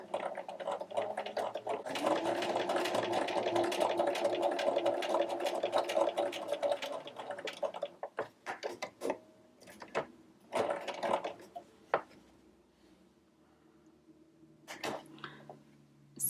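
A sewing machine stitching a tiny doll-clothes collar, running in a steady fast whir for several seconds, then stopping and starting in short bursts as the corner is turned.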